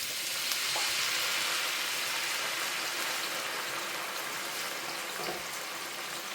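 Shallots and garlic sizzle in melted butter in a pan, a steady, soft, close frying hiss with a couple of faint clicks and no talk.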